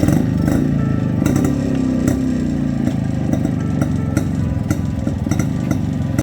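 A 1993 Yezdi Roadking motorcycle engine running steadily and loud, a continuous throbbing two-stroke beat with clattery rattles, close by and without pauses.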